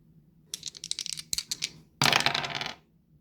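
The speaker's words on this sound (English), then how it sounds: "I'm going to keep rolling the dice until I get to 50 pages or more." Dice are rolled, rattling in quick clattering bursts, then tumbling and skittering across a hard surface before settling, close and with no one talking.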